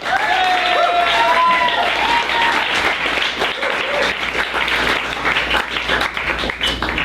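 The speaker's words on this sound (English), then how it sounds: "And I want everybody to give them a round of applause." Audience at a comedy roast giving the comedians on the dais a loud, enthusiastic round of applause, thick clapping mixed with a few whistles and cheers that eases slightly over several seconds.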